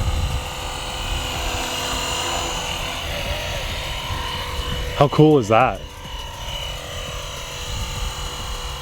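A small Blade 230 S remote-control helicopter whines steadily nearby with a high buzzing rotor, while a person speaks briefly over it.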